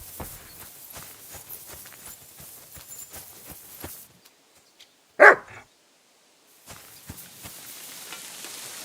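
A dog barks once, sharp and fairly close, in the video game Kingdom Come Deliverance 2, set between stretches of hoofbeat-like footsteps and rustling ambience.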